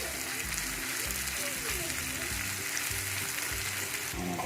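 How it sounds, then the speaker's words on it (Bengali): Onions sizzle and fry steadily in hot oil, being browned into crisp birista for Pakistani-style Shan haleem; a dense, continuous crackle with soft stirring, and a voice talks over it at times. "তো এখানে আমরা পেঁয়াজের বেরেস্তা বানাচ্ছি।"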